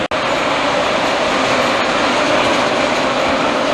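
A train rumbles steadily at a railway station in Paris, a continuous loud rolling noise with a brief clank near the start and no talking.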